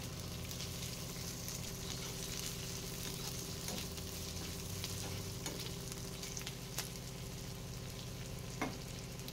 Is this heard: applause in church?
no